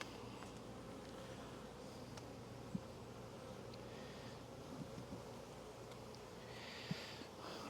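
Honey bees from a swarm colony buzz in a continuous, faint drone that holds steady throughout, with a few tiny clicks and taps over the hum and no voices.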